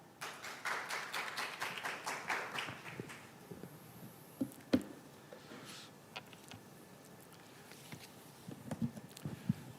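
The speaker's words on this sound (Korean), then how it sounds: "여러분 큰 박수로 모시겠습니다." An audience at an ESG forum claps to welcome an energy policy professor to the stage, a brief scattered round of applause in the first seconds that fades into a quiet room with occasional taps.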